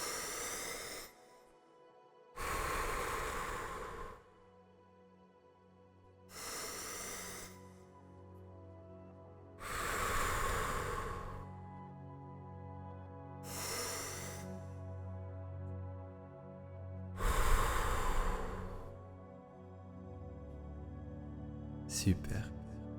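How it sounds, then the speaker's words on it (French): During a guided meditation, a close breather takes slow, deep breaths, each a long hissing inhale or exhale separated by pauses, with a low tonal drone underneath. "je vais t'inviter à prendre 3 grandes respirations"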